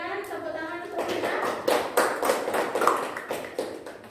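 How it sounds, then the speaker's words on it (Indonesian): Classroom applause rises with a handful of sharp, separate claps and taps that follow talk. The claps are spaced rather than a dense ovation, and a voice continues underneath. "berikan tepuk tangan untuk kita"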